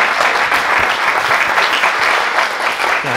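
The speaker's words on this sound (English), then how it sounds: "Let's give them a round of applause." Loud, dense applause from an audience thanking guest speakers, a steady wash of many hands clapping that holds for the whole stretch without a break.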